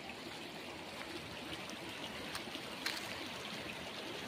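River water flows at Jhalong river camp, a steady, faint rushing and trickling wash heard from some distance, continuous and unbroken, with no voices and a single small knock near the end.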